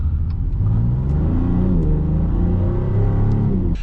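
Steady engine rumble from a 2026 Dodge Charger Sixpack driving on the road, a loud, continuous cabin drone with gentle pitch shifts as it cruises.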